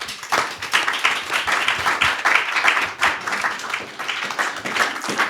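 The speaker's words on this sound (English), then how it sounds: "Please give them a round of applause." An audience at a panel discussion on ending violence against women applauds the panelists taking the stage: loud, close, busy clapping with sharp individual claps, sustained throughout.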